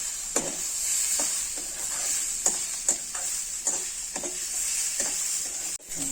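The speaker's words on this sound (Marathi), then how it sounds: "कांदा चांगलं भाजून घ्यायचं एकदम सोनेरी होईपर्यंत." Onion fries in oil until golden for a Malvani radish curry, a steady bright sizzle running throughout with about eight evenly spaced spatula strokes scraping the pan, close and alone without voices.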